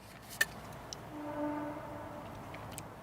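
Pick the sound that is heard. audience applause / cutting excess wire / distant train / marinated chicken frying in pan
distant train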